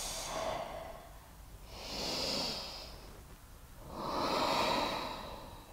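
Slow, deep breathing in a yoga session, with two long audible breath cycles, each a soft hissing inhale and exhale, close and alone with no talk.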